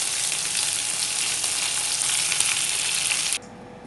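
Nadan-style Kerala chicken fry sizzles loudly and steadily in a pan, a dense continuous hiss that cuts off abruptly near the end, with no talking.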